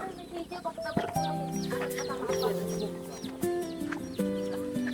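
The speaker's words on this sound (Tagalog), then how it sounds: "Yung mga sisiw ha, baka mapakan nyo." Chickens and small chicks cluck and peep around a home yard, a dense mix of short repeated calls near and far, with background activity and no clear speech.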